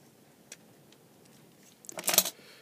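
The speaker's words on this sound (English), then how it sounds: "I can hear it crunching through layers now." A knife makes a brief, gritty crunching burst through the layers of an LED filament lamp near the end, preceded by a faint click, otherwise quiet, with no voices.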